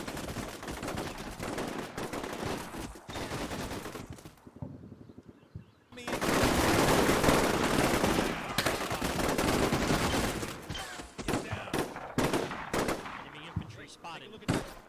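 Sustained machine gun and rifle fire in the video game Combat Mission Shock Force 2, dense rattling bursts with a short lull partway through, then heavy continuous firing and scattered shots.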